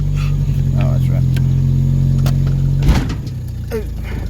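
Wood-gas-powered Chevrolet Cavalier engine running at a raised idle, a steady, loud, low hum that drops and softens about three seconds in as it settles lower, with a brief clunk at the change.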